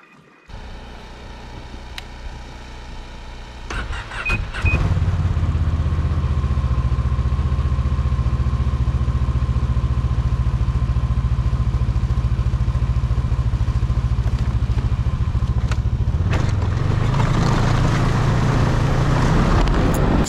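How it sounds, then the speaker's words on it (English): A snowmobile engine starts up and settles into a steady, loud, close idle that runs on, with a brief rise in revs near the end, out at an off-grid cabin in winter. "So I figured I'd take the snow machine."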